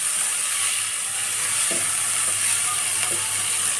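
Onions frying in oil in a pan for Tamil-style egg gravy, giving a steady, even sizzle throughout, with a few faint clicks of a utensil partway through and no talking.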